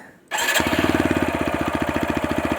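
A TVS Apache RTR 160 4V motorcycle engine cranks and fires after a brief silence, then settles into a fast, steady, close-up idle thump.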